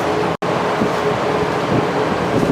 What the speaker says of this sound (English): I'm going to grind this off on the ball grinder